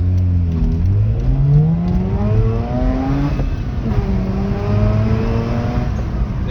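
A 2011 Mazda RX-8 pulls hard through the gears, its rotary engine climbing in pitch with each sweep and dropping between shifts, loud and steady from inside the car with no talk.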